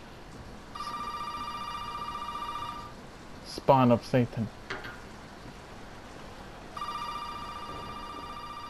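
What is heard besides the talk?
telephone ringing in the video game Resident Evil 7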